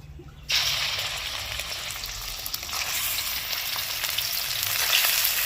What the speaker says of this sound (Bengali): এবার চিকেনটাকে ভেজে নেব এখানে আমি বারোশো চিকেন নিয়েছি তেলটা গরমই আছে এবার দিয়ে দিচ্ছি চিকেনগুলোকে